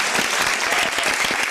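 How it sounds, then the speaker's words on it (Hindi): Applause from a studio audience on a chat show, a brief burst of dense, steady clapping from many hands at close range. "एक मिनट पहले ताली मैं बजाऊंगा, उसके बाद आप बजाइए।"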